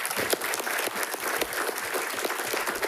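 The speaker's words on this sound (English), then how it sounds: "Let's give her a round of applause." At a school district board meeting, the audience gives a steady round of applause for a newly announced high school assistant principal, with sustained, dense clapping and no talking.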